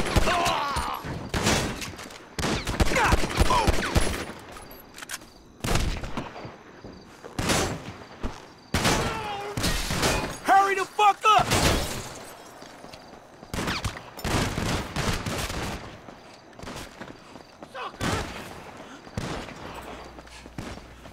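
Rapid bursts of gunfire in GTA V, some in quick volleys and others as single shots, loud and close, with brief gaps between exchanges.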